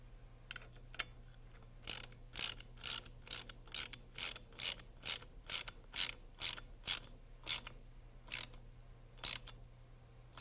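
Ratchet wrench tightening a bolt on the control stick of a Rotorway Exec 162F kit helicopter, a fast, even series of about eighteen crisp clicks, close and fairly quiet over a low steady hum.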